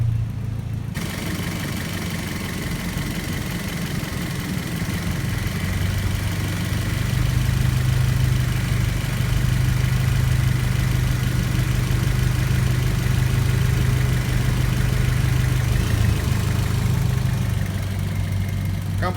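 A car engine idles steadily with the air conditioning compressor engaged, a smooth low hum that steps up slightly as the compressor kicks in and runs quietly without rattles or extra noises.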